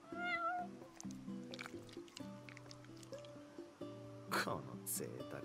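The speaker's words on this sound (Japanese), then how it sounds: "この贅沢猫。" A cat in Final Fantasy XV meows several times in short high cries, close and clear over soft game music, with a few wet eating or squishy sounds in between.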